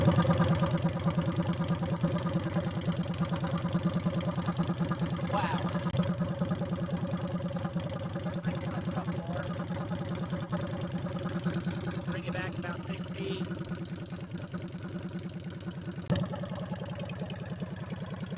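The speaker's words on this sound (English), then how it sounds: "We're going to crank it up with the baffles removed." Loud, throaty motorcycle exhaust through drag pipes with the baffles removed, idling in a steady deep rumble for the whole stretch, with a brief louder blip near the end.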